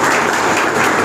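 Students clapping at a school and college inauguration ceremony, a dense, steady burst of applause filling the whole short stretch at close range with no pauses.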